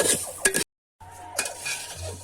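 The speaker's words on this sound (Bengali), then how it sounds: "চালটা এইভাবে নাড়তে থাকবেন আস্তে আস্তে করে, যাতে তলায় লেগে না যায়" A spoon slowly stirs raw rice in a pot for village-style kosha pulao, giving close scraping and rustling strokes with a faint sizzle. There is a brief silent gap partway through.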